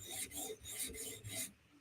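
A knife blade is drawn across a stone on a Hapstone RS guided sharpener in about three quiet, rhythmic rasping strokes, close up with no talking.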